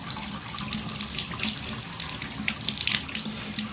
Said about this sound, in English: Look how really the water flows.